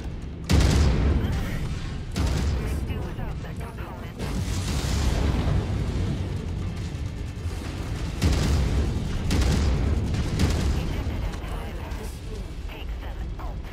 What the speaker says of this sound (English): Well, you're about to have an ammo explosion